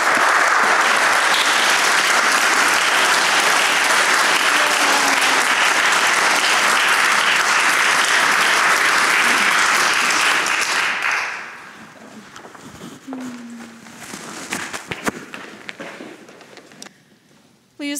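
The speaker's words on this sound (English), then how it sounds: "Let's give them all a round of applause." A congregation at a worship service claps in a dense, sustained burst of applause for about eleven seconds, then it drops off to quiet room sounds and a few stray noises.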